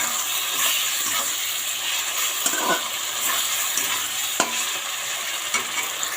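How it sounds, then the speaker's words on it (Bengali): A spice paste of chilli, cumin, onion and ginger is sautéed in a pan, a steady hissing sizzle with intermittent scraping stirs and a few sharp clinks. "মশলাটা কষিয়ে নিই ভালো করে।"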